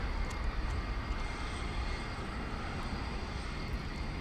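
A Sun Country airliner departing DFW Airport at night gives off a steady, dense engine roar, broad and continuous at moderate distance, with no talking.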